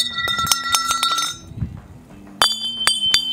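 Metal horse panels dropped and struck, giving bright ringing clanks in quick bursts, then a brief quieter thud, then another run of loud close metallic clangs.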